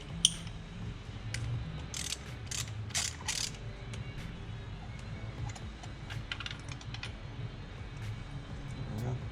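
A ratchet with a 5/8 spark plug socket on a 6-inch extension clicks in quick bursts while loosening a spark plug on a Hyundai Elantra Sport 1.6L turbo, near and distinct, over a low mechanical hum.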